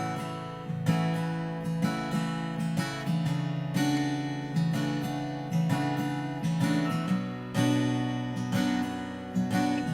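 Acoustic guitar fingerpicking a song, with steady plucked chord patterns moving between chord shapes, played alone and close with no talking.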